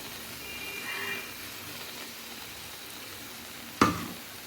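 A steady, low sizzle of oil heating in a pan of taro leaves (kachu shak) cooking with prawns, with a single sharp clatter near the end.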